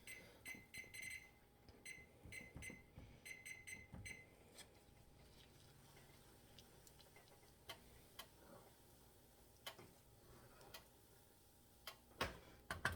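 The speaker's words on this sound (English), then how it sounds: "I'm going to go ahead and put a timer on." A kitchen timer ticks quietly and steadily while oatmeal simmers on the stove, with clusters of sharper clicks at the start and occasional louder knocks near the end.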